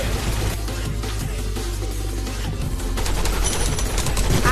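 Sustained rapid gunfire in the video game Gun Raiders, dense automatic bursts overlapping continuously at close, loud range with no talk.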